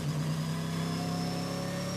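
Trans Am race car number 57, driven by Pintaric in Stars and Stripes livery, pulls out of the pit lane at Road Atlanta on cold tires, its engine a steady, loud, close drone throughout.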